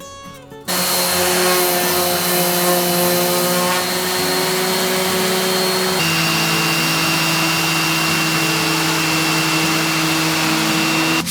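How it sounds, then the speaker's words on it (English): A power drill bores through the wooden base of a vintage drafting table, starting abruptly and whining steadily at close range, its pitch stepping down partway through, with no talk over it. "drill through where those screw holes already are"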